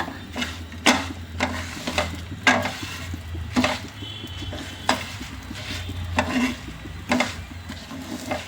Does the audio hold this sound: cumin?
yes